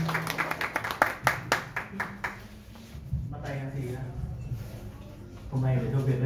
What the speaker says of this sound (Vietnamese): Xin một tràng pháo tay để ông.